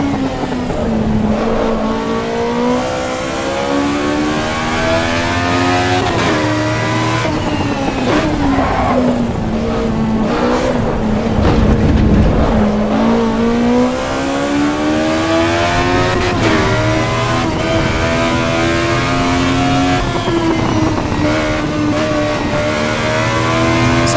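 Race car engine in the Assetto Corsa Evo racing game, revving loudly and steadily with pitch rising and falling through gear changes and braking, continuous and close for the whole stretch with no talk.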